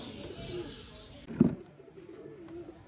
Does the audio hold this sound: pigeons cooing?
yes